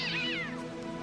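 A cat in the film The Prestige gives a single drawn-out meow, clear and close, falling in pitch over about a second.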